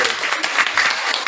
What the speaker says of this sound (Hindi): ताली बजाओ दोनों एक साथ